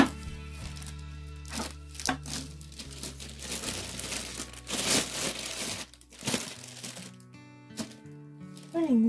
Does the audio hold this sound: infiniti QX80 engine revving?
no